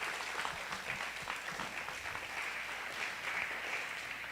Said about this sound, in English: So if you would give him a round of applause